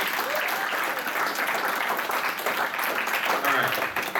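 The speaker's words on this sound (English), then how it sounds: "So give a round of applause, guys." Audience applause at an anime convention game show, dense sustained clapping from a crowd with voices talking over it.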